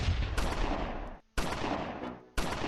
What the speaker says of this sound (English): Bazooka shot, get it off.